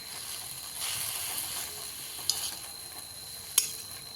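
Methi bhaji sizzling in a pan while being stirred, a soft steady frying hiss with a few short scraping strokes and two sharp clicks of the spoon against the pan.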